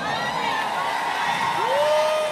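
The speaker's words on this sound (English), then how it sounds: "Can you give yourselves a round of applause?" A crowd at a live R&B concert by Ruff Endz cheers, whoops and applauds in a dense, continuous roar, with excited voices rising above the noise.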